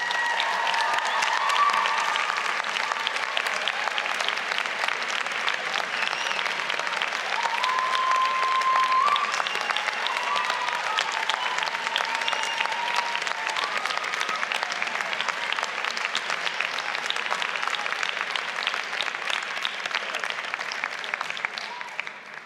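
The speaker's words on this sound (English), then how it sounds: "give them a huge wave and a huge round of applause" Sustained applause from a large crowd at a university degree ceremony in Newport, steady and loud throughout, with a few faint whistles or cheers mixed in before it tapers slightly at the end.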